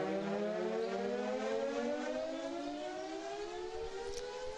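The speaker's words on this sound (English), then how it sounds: "sirens go off in the capital of Pakistan" A long, loud air raid siren wails steadily in Islamabad, Pakistan, its pitch slowly rising, with no voices over it.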